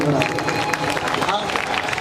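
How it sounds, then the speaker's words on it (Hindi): Audience clapping with raised hands at a Shrimad Bhagwat Katha gathering in Bhorgarh village, a dense, steady wash of claps mixed with crowd murmur that lasts the full stretch. "हाथ उठा के ताली बजा दो प्रेम से"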